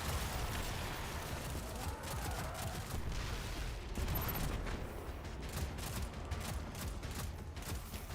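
Rapid gunfire in the video game Destiny, bursts of shots and impacts overlapping continuously at moderate level with faint game effects underneath.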